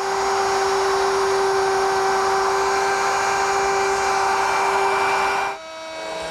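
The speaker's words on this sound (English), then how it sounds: "Now I'm going to make an adjustment to the router depth down to 1/8 inch and make the last" A wood router makes a final shallow 1/8-inch pass, a loud steady high whine with strong tonal hum running for about five and a half seconds, then cutting off and spinning down.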